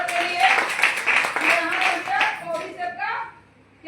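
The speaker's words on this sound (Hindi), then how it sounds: "एक जोड़ा तालियां दोनों के लिए।" Audience clapping at a DXN product talk in Hindi, a short burst of hand claps for two people, fairly close, with voices talking over it and tapering off after about three seconds.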